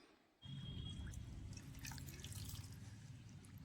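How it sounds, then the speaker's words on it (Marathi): Rose petals are rinsed clean under running tap water: after a brief quiet start, a steady, close splashing stream runs continuously with no talking. "तर आता ह्या पाकळ्या आपल्याला स्वच्छ धुवून घ्यायचं."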